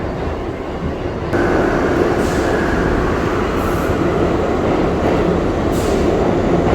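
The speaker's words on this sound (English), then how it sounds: "That's the tram underground I came off of" Underground subway train pulling into South Ferry station, the end of the line in Manhattan: a steady, loud rumble of rail cars and wheels fills the whole stretch, with faint squeals and clatter over it.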